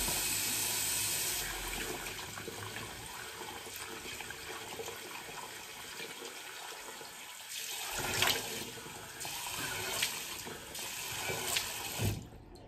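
Water runs steadily from a barbershop sink tap as a face is rinsed during a straight-razor shave. A continuous splashing hiss fills the whole stretch, with a few louder splashes and knocks near the end.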